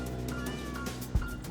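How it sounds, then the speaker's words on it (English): A caged cat meows faintly in a run-down rental building, sounding as a few thin, drawn-out cries, with a single dull knock close by. "I thought I heard a cat."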